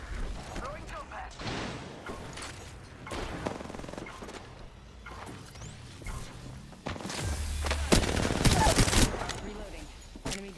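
Gunfire in a shooter video game, bursts of rapid automatic shots and sharp impacts spread across the clip, loudest near the end, with a voice speaking over the action.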